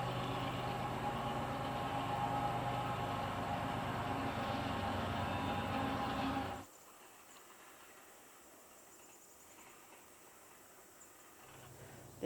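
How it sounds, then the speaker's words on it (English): A train rumbles past at a distance through a valley near Gwynne, Alberta, a steady droning roar that cuts off abruptly, leaving quiet with faint birds before a soft rumble returns. "the train tracking its way through the valley, echoing and drowning out the birdsong"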